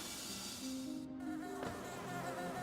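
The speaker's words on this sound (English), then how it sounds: "It's a whole bunch of bees." Bees buzz in the video game Hollow Knight, a thin droning hum with a wavering pitch that stays steady and moderately loud for a couple of seconds, with no talking.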